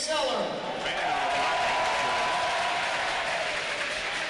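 Hockey fans applaud at an RPI men's hockey game against Bowling Green, a steady broad wash of crowd clapping that lasts throughout, with a voice talking over it.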